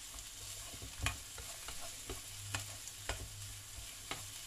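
Garlic and onion sauteing in a pan, a steady low sizzle broken by a few sharp scrapes and clinks of stirring at close range, with no voices.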